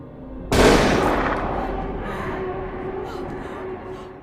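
A gunshot bursts out loud and close in a dramatic film scene, followed by a long ringing decay layered with score and ambience; no further distinct shots follow.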